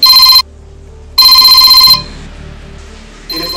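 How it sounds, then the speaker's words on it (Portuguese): A telephone rings in two loud, bright electronic bursts with a pause between them, followed by quieter low background sound and the start of a third ring at the end. "O telefone tá tocando, não vai atender não?"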